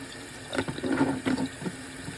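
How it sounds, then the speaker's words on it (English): Tap water runs over a glass bottle capped with an airlock, splashing and gurgling close by in a short steady burst with a few louder surges. "Just gonna keep water running on it"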